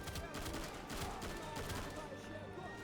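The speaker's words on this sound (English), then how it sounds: "I just empty all 10 rounds of that fucking gun" Rifle fire in Easy Red 2 during the Stalingrad campaign, rapid close shots in quick succession over dense battle noise, with a voice talking over it.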